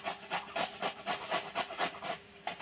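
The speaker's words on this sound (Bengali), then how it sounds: "এবারে গ্রেট করে নেব, এগুলো ঘষে নেব।" Peeled raw mangoes being grated by hand, a quiet rhythmic rasping of about a dozen strokes in steady succession, close up with no talk.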